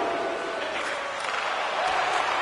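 Home crowd at a Seattle Kraken hockey arena in NHL 24 jeers a visiting Edmonton Oilers player, a steady, dense wash of crowd noise that holds at an even level throughout.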